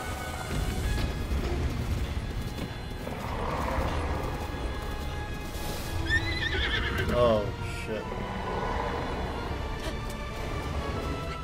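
A horse whinnies loudly in The Legend of Zelda: Breath of the Wild, one long neigh near the middle of the gameplay, with hoofbeats, game sounds and someone talking around it.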